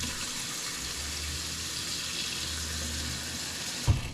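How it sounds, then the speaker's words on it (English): Hot water poured from a tap into a kitchen sink drain over a garburator, a steady close rush and hiss of running water lasting several seconds, with a small clunk near the end. "Pour hot water in the drain for about 3 or 4 seconds."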